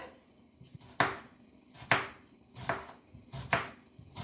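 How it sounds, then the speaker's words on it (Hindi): A knife chops an onion into thin noodle-width strips on a board, four distinct sharp cuts landing at a steady, unhurried rhythm, close and clear with no talking. "तो अब हम प्याज को भी वैसे काट देंगे।"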